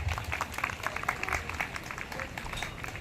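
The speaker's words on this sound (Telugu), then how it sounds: "దానికి మనమందరము సార్కి ఒక బిగ్ రౌండ్ ఆఫ్ అప్లాజ్ ఇవ్వాలి." Audience members at a school's 16th anniversary celebration give a round of applause, with uneven, moderately loud clapping pulsing throughout.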